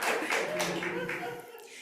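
A church congregation claps together at a Sunday Water Communion service, a dense patter of hands rising and fading over a couple of seconds beneath a voice speaking to the gathering.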